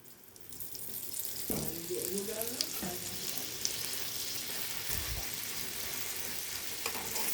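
Paratha stuffed with paneer and potato frying in a little oil in a pan, producing a steady close hiss and sizzle, with a brief clatter and a few faint knocks while it cooks.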